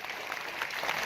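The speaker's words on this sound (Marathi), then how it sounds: "गेल्या 40 दिवसापासून अहोरात्र परिश्रम करणारी ही सेवा मंडळाचे कार्यकर्ते, यांच्यासाठी एकदा आपण जोरात टाळ्या वाजूया" An audience at a religious ceremony claps together in steady, even applause, a dense wash of many hands heard at moderate distance without talk.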